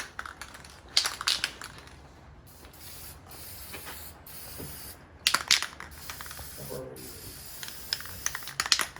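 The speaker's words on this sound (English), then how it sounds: "So the trick to getting a good coat of paint is you have to shake the can really well, and you only use the best quality spray paint." A Quick Color spray paint can is shaken and sprayed during race car body work, giving repeated hissing bursts with rattling between them at close range and no talk.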